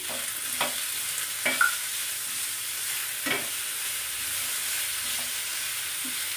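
Onion and capsicum stir-frying in a pan for chicken manchurian: a soft continuous sizzle with several scraping stirs of a spoon against the pan, close and unaccompanied by speech.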